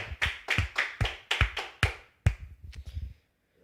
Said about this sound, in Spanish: denle un aplauso al Rey de la Gloria